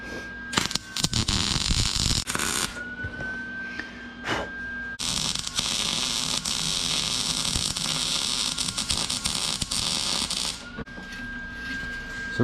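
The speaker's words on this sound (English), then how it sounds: "So I'm going to go ahead and weld it here, flip it, weld it there." A swivel campfire grill frame being welded gives off long buzzing, crackling bursts separated by short quiet pauses, close and fairly faint.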